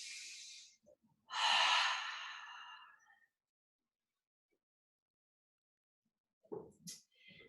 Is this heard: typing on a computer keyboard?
no